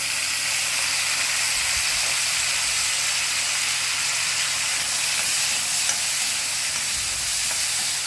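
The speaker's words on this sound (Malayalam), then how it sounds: "ഇച്ചിരി വെളിച്ചെണ്ണ ഒഴിച്ച് ഇതിന് വേണ്ട ഉള്ളിയും പച്ചമുളകും നമുക്കൊന്ന് വഴറ്റാം." Onions and green chillies sautéing in coconut oil for a prawn theeyal give off a continuous bright hiss and sizzle, steady and close, with no voices over it.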